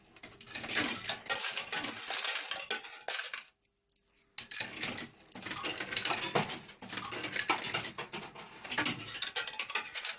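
Coins clatter and rattle into the metal reject tray of a Rainbow Riches casino fruit machine in quick bursts, with mechanical clicking between drops and a brief pause partway through.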